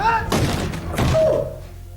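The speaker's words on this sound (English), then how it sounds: "In a fit of panic, Corey kicks the door to escape, and this happens." A door kicked open from inside an attic in the film Halloween Ends: two heavy thuds about three-quarters of a second apart, loud and close, with a short sustained tone ringing after the second impact.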